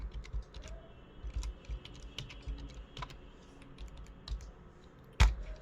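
Numbers are typed on a computer keyboard while writing a C program, a quick irregular run of close key taps ending with one louder keystroke, with no talking.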